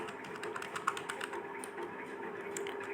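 Keys on a computer keyboard clatter in quick, irregular bursts as code is typed, close and moderately quiet with no talking.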